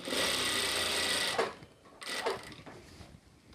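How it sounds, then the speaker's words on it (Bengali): Sewing machine stitching fabric that covers an elastic band, a close, steady whirring run that stops, then two shorter bursts with mechanical clicks and fabric handling. "এজন্য রাবারটা ঢেকে দিয়ে আমরা শুধু এই কাপড়ের সাথে সেলাই দিয়ে নিব।"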